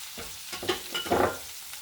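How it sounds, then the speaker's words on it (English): Whole spices including cinnamon sticks, cumin, bay leaves, dried thyme and curry leaves tipped into frying onions, a few quick scraping stirs and sizzling bursts, close and fairly loud. "So let's add that to our fried onions."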